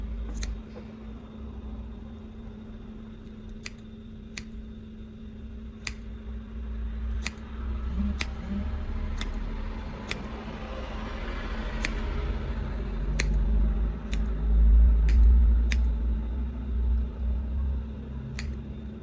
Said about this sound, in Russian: Все петельки разрезаем.